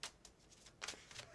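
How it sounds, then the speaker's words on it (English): Tarot cards shuffled by hand close by, quick papery riffling bursts that come and go in a loose rhythm over a quiet room. "Who do you want to shuffle that card, or do you want both of us to do it?"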